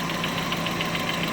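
A Mazda Miata with the 1.6-litre engine runs steadily nearby, a faint rapid ticking riding over the constant mechanical hum.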